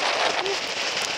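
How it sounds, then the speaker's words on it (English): Hail driven by strong wind on a mountain hiking trail in Kananaskis makes a dense, steady hiss of pellets striking close by, loud and unbroken throughout. "weather system's blown in. This time with hail."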